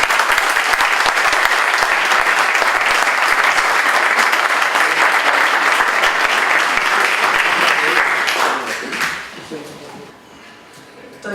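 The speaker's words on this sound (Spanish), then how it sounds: "simplemente pedirles un aplauso por toda la gente" An audience at an anniversary conference gives a long, loud round of applause that carries steadily for about eight seconds and then thins out and fades as the clapping tapers away.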